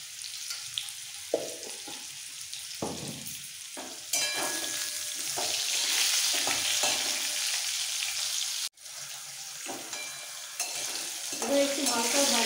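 Potatoes are stirred and fried in oil, with scraping utensil strokes and knocks at first and then a louder, steady sizzle with crackles and clinks, briefly interrupted.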